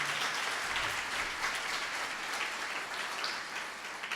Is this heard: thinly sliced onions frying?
no